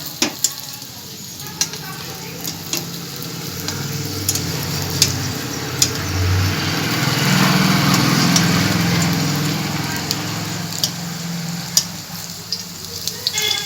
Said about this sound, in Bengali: আমার রাস্তার ধারে রান্নাঘর সবসময়তে গাড়ি পেরোচ্ছেই তো সবসময়তে আওয়াজও পাবেন